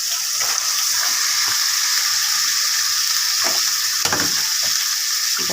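Long beans fry in spiced oil with ground coriander for a rohu fish curry, a steady, close hiss broken by a few soft stirring scrapes.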